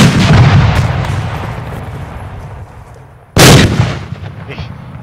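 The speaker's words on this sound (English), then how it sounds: "The mortars just hit their position." Mortar rounds slam into an enemy position in two heavy, loud booms, the first rolling out into a long rumbling decay and the second hitting abruptly near the three-second mark before trailing off, with no voices over them.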